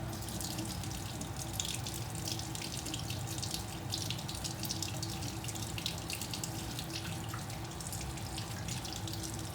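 Tap water runs steadily into a sink while a makeup brush is rinsed under it, a constant close splashing hiss with no voices.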